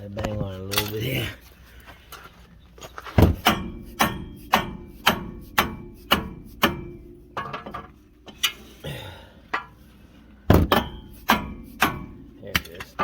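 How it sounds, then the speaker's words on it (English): A hammer strikes a Ford truck's front wheel hub during a 6.0 Powerstroke front bearing job, sharp metallic bangs coming in a steady series with short pauses between bursts, close and loud, with some scraping and rattling in between. "Bang on it a little bit here."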